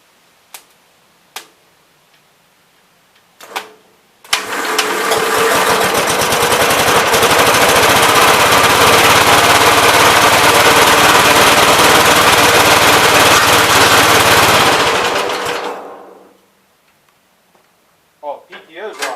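Engine of a 1971 Gravely C tractor, turned over by its electric starter: a few clicks, then it catches and runs with a loud, steady, rapid chugging roar for about ten seconds before shutting off, with a voice briefly heard afterward.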